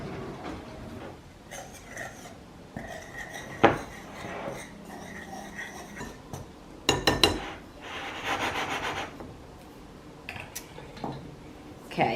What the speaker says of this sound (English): And then I'm just going to whisk all of this together.